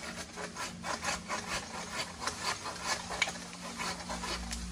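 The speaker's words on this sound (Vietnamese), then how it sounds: "Còn những cành to này các bác cưa đây." A pole pruning saw cuts through a thick tree branch outdoors, its teeth rasping in a steady back-and-forth rhythm of about two strokes per second, close and clear with no talk.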